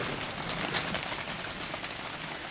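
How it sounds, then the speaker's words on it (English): Heavy rain pours down in the woods, a dense, steady hiss of drops on leaves and ground, continuous and fairly loud, with no voices. "it is pouring down rain right now"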